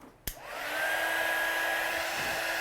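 Heat gun heat-setting stamped ink, clicking on and then blowing a steady, loud rush of hot air close by, with a thin whine holding throughout.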